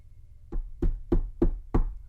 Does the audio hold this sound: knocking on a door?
yes